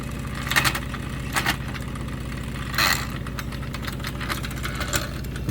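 A Wilesco D406 model steam engine running on a rolling road, a steady rhythmic chuffing and mechanical knock close by, with a few louder hissing puffs of steam standing out over the beat.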